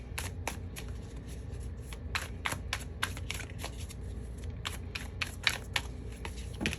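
Tarot cards shuffled by hand in a quiet room, with a fast series of crisp, riffling snaps in irregular bursts, close and fairly soft.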